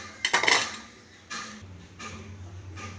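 A spoon clinks quickly against a bowl several times, then scrapes more softly as salt is stirred into a bread-pizza topping mixture, close and fairly quiet.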